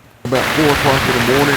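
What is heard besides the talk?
heavy rain storm hitting a backpacking tent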